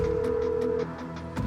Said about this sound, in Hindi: तनवीर से बात करने के तुरंत बाद इशिका ने कबीर को फोन लगा दिया।